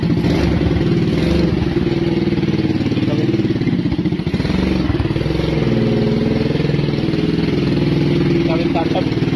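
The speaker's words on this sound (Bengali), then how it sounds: "তো আমার এটা লেজেন্ড বাইক" A handmade motorcycle engine idles with a loud, steady, close rumble throughout while someone talks over it.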